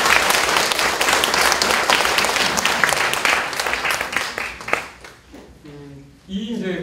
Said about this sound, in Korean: 이럴 때 박수 한번 주시고요.